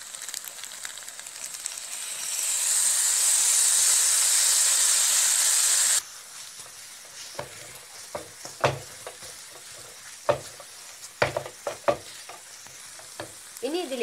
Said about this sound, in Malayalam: ഈ മിക്സ്ചറിൽ നിന്നും ഇറങ്ങി വരുന്നത് വരെ നന്നായി ഇളക്കിക്കൊണ്ടേയിരിക്കാം.